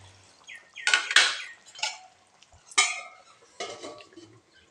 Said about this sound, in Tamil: இப்போ கத்திரிக்காய் போட்டுக்கலாங்க.